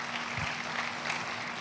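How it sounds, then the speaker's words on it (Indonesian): A church congregation claps together during a worship service, a steady, even wash of applause at moderate volume lasting throughout, with no voices standing out. "Kita kasih tepuk tangannya boleh meriah buat Tuhan kita."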